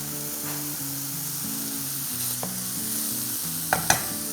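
Cumin rice tossed and stirred on a hot tawa, a continuous close sizzle with faint stirring under a soft background melody, ending in two sharp scraping clatters.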